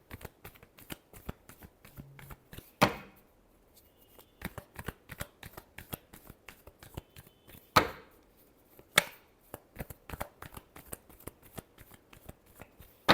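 Tarot cards shuffled close up, a steady run of quick crisp riffles and taps with a few louder slaps as the deck is squared, fairly quiet and with no talking.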